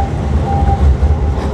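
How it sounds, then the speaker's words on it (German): A Rheinbahn tram rolls along a street in Düsseldorf, a loud close rumble of wheels on rail with a low steady drone and a faint tonal whine. "Hier kommt gerade so eine schöne Straßenbahn, auch von der Rheinbahn angefahren."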